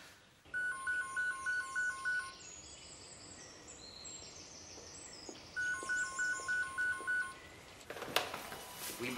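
Two bursts of telephone keypad tones sound as a number is dialed, each a quick run of even beeps, with a short rustle at the end. Faint background noise sits underneath and no one speaks.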